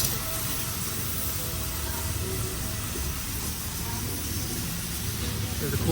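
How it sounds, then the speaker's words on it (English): A pressure washer blasting water near a church in Liliw, Laguna, Philippines, giving a loud, steady broadband hiss that runs unbroken from start to finish. "Oh, they're water blasting."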